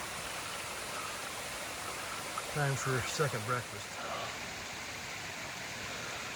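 A mountain stream runs steadily in the Cascades, its broad even rush of water continuing throughout, with someone speaking briefly partway through.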